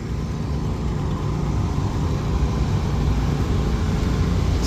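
A car with a roller push bar on its front bumper accelerates while shoving a Suzuki Hayabusa motorcycle at a drag strip, a steady broadband engine roar close by that holds constant throughout.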